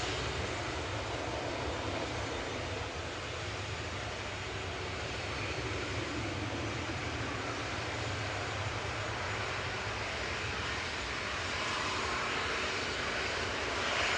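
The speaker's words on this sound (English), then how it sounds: "Next to go, TUI 2606 to Palma de Mallorca. This is GTAWK 737-800." A TUI Boeing 737-800 jet departs from Manchester Airport for Palma de Mallorca, its engines producing a loud, continuous broadband roar that holds steady throughout with no talk over it.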